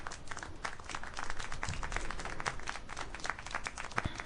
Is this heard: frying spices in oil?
no